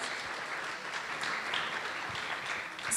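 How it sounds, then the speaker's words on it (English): An audience at a Q&A with actors from HBO's Boardwalk Empire claps in a continuous, moderately distant round of applause, with no voices over it. "let's give them a round of applause again for the first 2 episodes"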